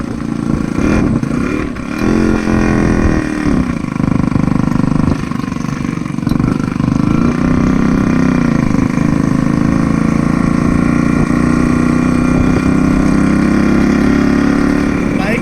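A Yamaha RX 100 motorcycle on a ride, its two-stroke engine droning loud and steady up close with slight rises in revs, while a voice talks over it now and then.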